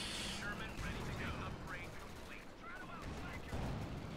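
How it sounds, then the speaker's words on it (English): Heavy machine gun fire in a Company of Heroes 2 battle, dense and continuous with distant crackle and rumble, while voices talk over it. "Walking your pack gun into a heavy machine gun fire."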